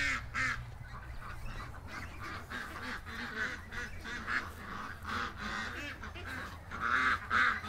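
Ducks quack and honk repeatedly close by, a busy flock of loud, overlapping calls in an irregular rhythm, with a low background rumble beneath.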